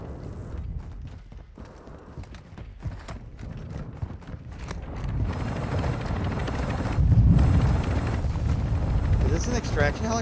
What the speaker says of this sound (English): Extraction helicopter?